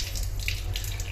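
Water runs steadily from a new tap, a continuous close hiss and splash with no talking over it.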